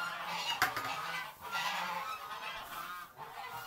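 A goose honks outdoors a few times, with a sharp call near the start and a couple of rougher, hoarse honks later over steady background noise.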